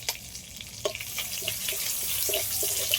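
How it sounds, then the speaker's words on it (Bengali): Dried red chillies and bay leaves hit hot oil that was just used for frying fish, giving a steady crackling sizzle with scattered sharp pops and spatters, close and fairly loud. "ওই তেলের মধ্যে দিয়ে দিচ্ছি শুকনো লঙ্কা, তেজপাতা"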